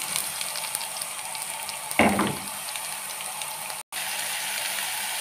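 Sliced onions hit hot oil in a heated pan on a gas stove, bursting into a loud sizzle that quickly settles into a steady frying hiss, with no talk.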